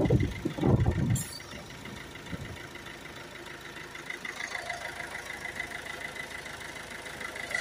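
Ford Focus C-Max 1.6 TDCi diesel with a DPF ash-accumulation fault idling steadily and close by, a continuous even rumble, with a few louder handling knocks and thumps right at the start.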